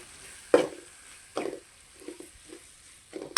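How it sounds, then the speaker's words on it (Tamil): Ginger garlic paste sautéing in oil in a pan, a soft low sizzle broken by several sharp stirring knocks and scrapes at uneven intervals, close but quiet. "பாருங்கள், இஞ்சி பூண்டு பேஸ்ட்டும் நல்லா வதங்கியிருக்கு"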